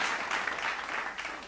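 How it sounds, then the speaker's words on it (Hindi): Listeners at a Hindi kavi sammelan poetry recital break into a brief, dense round of applause, steady and fairly close. "जोरदार तालियां बजाइए एक बार"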